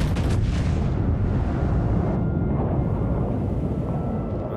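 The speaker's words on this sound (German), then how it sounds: "Jetzt schießt die Yamato vom Team Grün" The Yamato battleship firing its main guns in World of Warships: a loud, sustained booming roar of heavy cannon fire that rumbles on for several seconds before slowly tailing off.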